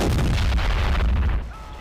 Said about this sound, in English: Ferdinand's fired a shot there, which is also known as the Elephant